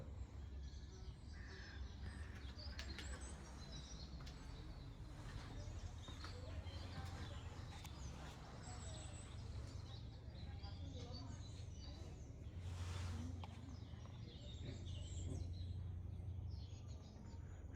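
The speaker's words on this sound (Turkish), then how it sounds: "Bakın nasıl da kuş sesleri var." Faint birdsong and a few crow-like caws drift in from a distance over a low background hum, with no clear voices.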